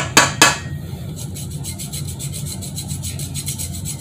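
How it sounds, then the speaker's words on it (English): A lime being zested on a grater, with two sharp knocks at the start followed by a fast, even series of light rasping strokes, close and quiet, with no talking. "I'm just zesting."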